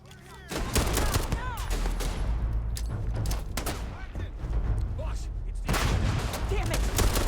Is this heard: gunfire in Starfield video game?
yes